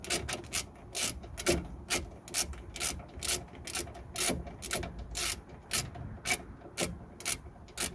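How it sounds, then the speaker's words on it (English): A ratchet wrench tightens the lower guide pin bolt on a Suzuki Vitara front brake caliper, giving a rapid series of sharp, regular clicks heard up close for about eight seconds with no talk. "Then we're gonna tighten the bottom guide pin bolt."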